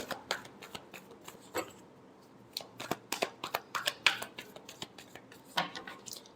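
Tarot cards being shuffled by hand during a reading, a series of crisp papery riffles and slaps in irregular bursts, close and fairly quiet, with no talking.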